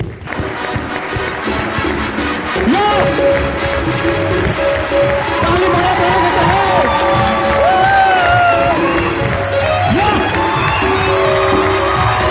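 A lively Bhojpuri show crowd claps, cheers and whoops loudly to welcome a singer, a sustained roar of voices and hands with shouts rising over it throughout.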